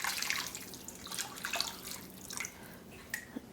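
Two and a half cups of water poured into a cooking pot for a vegan mushroom étouffée, a close splashing, trickling stream with a few drips, moderately loud with no talking.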